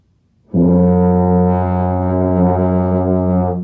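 A tuba sounds a steady open F, a deep, loud sustained note that starts abruptly and holds evenly for about three seconds, close and alone.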